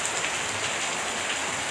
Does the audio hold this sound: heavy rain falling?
yes